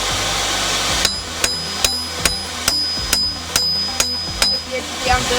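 A hammer rings on hot steel at the edge of an anvil while a shortsword shoulder is forged, about ten sharp metallic strikes in an even rhythm over a low background hum, close and loud.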